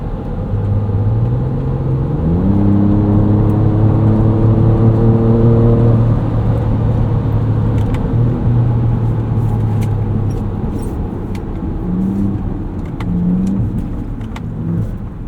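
2024 Ford Ranger Raptor on 34-inch Yokohama GEOLANDAR G003 tires accelerating hard on a wet road, a loud engine rising in pitch through gear changes, then easing off into lower, intermittent revs.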